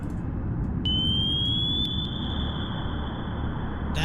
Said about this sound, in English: That is a helicopter drop torpedo.